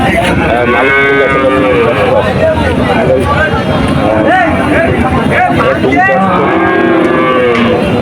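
Several cattle moo repeatedly over a loud, busy crowd babble at a cattle market in Shahpur, with long drawn-out lowing calls rising above the constant market din.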